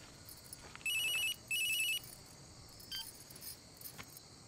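Two loud, sustained bursts of an electronic telephone ring follow one another closely, each about half a second long, with faint ambient rustling and clicks afterward and no talking.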